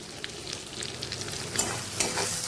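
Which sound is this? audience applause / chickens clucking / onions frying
onions frying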